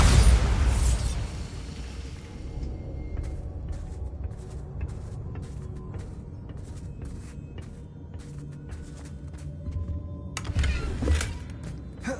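A Bombarda blasting spell in Hogwarts Legacy erupts in a loud, booming burst, followed by scattered debris and crackles, then a second heavy explosion near the end.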